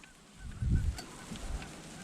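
Geese flying in give a low, brief honk or two at a distance in an otherwise quiet outdoor scene.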